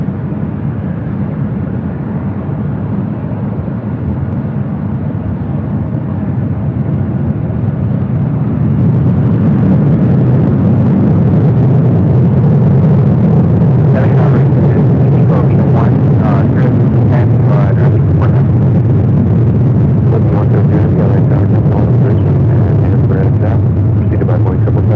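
A jet airliner takes off from runway 24 Left at Los Angeles International Airport, its deep, steady engine roar swelling louder after about nine seconds and holding strong, with faint radio chatter in the background.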